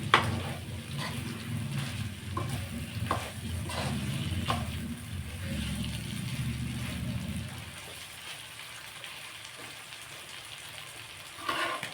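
Mutton boti stir-fries in a pan, a steady close sizzle with scraping and stirring rattles that drops to a softer hiss near the end, while a person speaks over it.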